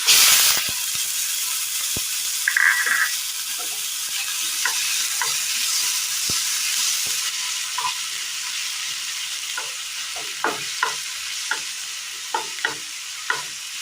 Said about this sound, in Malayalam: ഇനി ഈ തക്കാളി നന്നായി വഴറ്റിയെടുക്കണം